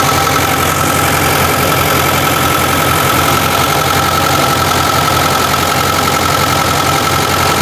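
A Lada (Zhiguli) car engine idles loudly and steadily up close, a constant rumbling drone with no pauses or changes, with freon in the cooling system instead of antifreeze and cold oil.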